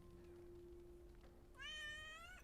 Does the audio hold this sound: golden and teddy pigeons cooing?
no